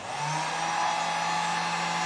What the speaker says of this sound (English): I'm going to go ahead and kick on the heat gun